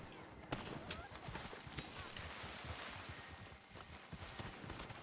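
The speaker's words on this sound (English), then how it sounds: "I should get on my horse." Horse galloping in Red Dead Redemption 2 Online: rapid, rhythmic hoof clip-clop beats run steadily, fairly faint, throughout the short stretch.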